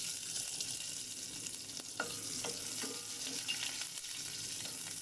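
Garlic sizzles steadily in hot oil for a Filipino tinola, with a near, continuous frying hiss broken by a few sharp utensil clinks and stirring scrapes around the middle.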